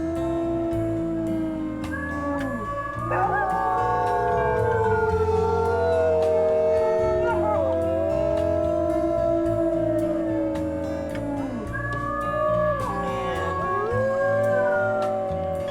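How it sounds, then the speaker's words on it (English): Several wolves howling together in the video game WolfQuest, long overlapping wavering howls that rise and fall at different pitches, forming a sustained chorus with no talk. "Let's do a little howl for Comet."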